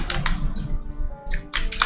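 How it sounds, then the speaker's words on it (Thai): Rapid computer keyboard typing, a steady flurry of sharp, close clicks and taps with short pauses between bursts, heard alone without talk. "คีย์บอร์ดเสียงดังไปหน่อย"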